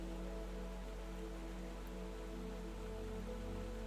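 Steady rain falls on a rainy night outside a pottery studio, a continuous even wash of drops with no break and no voices, moderately loud and close.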